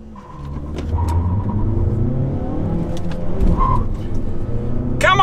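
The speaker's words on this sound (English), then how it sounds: "That turbo is kicking in. I'm pedal to the metal" A 2021 Mazda3 hatchback with a six-speed manual accelerates hard in a drag race against a Kia Forte5 GT, its engine rumble rising loudly and steadily from inside the cabin, with a brief shift partway through.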